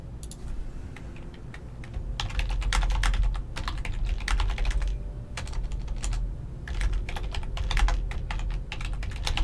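Fingers type on a computer keyboard in quick, uneven bursts of clicks with short pauses, close and clear with no talking.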